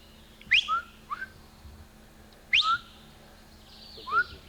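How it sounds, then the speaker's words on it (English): A person whistles to catch an animal's attention, giving short sharp rising whistles in pairs, spaced a couple of seconds apart over quiet outdoor background. "I'm gonna whistle, Brian, so you can lift his head."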